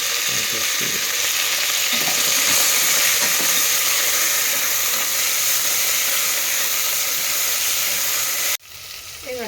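Green chillies, ginger and garlic sizzle steadily in hot oil for a red lentil khichdi, a loud continuous close-up frying hiss that cuts off abruptly near the end, followed by quieter kitchen noise.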